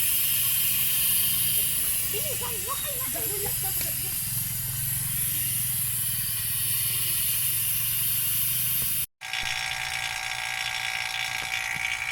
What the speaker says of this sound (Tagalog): So ngayon binabacuum na natin guys.